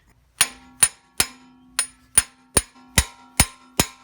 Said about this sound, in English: To help with the removal, I'm going to use this manual impact driver.